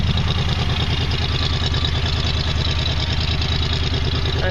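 A 1979 Jeep CJ-5 with a 304 engine idles steadily, its exhaust giving a loud, even, continuous rumble from up close, with no voices.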